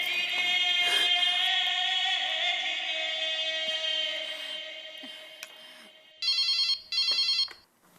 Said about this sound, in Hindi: चलो एक बार टप्पू के पापा को फोन करके पूछती हूँ।